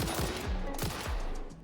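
A rifle firing in the video game Satisfactory, several quick shots in a short rapid burst, loud and close, each crack followed by a short tail of ringing.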